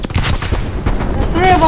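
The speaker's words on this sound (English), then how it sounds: "Flashbang." A flashbang grenade goes off in a video game amid dense, heavy gunfire and booming combat noise, ending in a ringing high tone, with voices mixed into the chaos.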